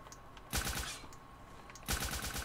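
A nail gun fires in Black Ops 3 in two rapid rattling bursts of repeated shots, separated by a pause, over faint game background noise.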